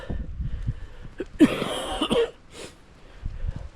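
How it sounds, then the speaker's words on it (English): A few rough coughs burst out in the middle after stopping trail running on Mt Karioi, surrounded by heavy breathing and faint background noise. "I'm coughing because I stopped running."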